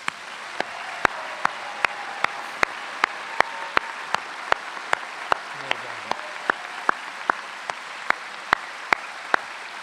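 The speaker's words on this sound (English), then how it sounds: "Let's ask the class to stand up for a minute and give them another round of applause." At a medical school commencement for new doctors, the seated audience gives a sustained, even wash of applause, fairly distant and steady, overlaid by a regular series of sharp ticking clicks.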